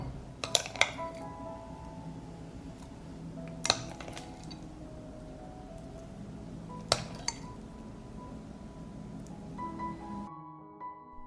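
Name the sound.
glass jar being handled for garlic paste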